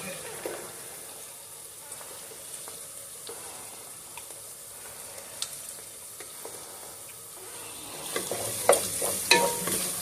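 Onions, celery and green pepper sauté in a pan for stuffing, a quiet steady sizzle with occasional light utensil taps and scrapes that grow busier and louder toward the end.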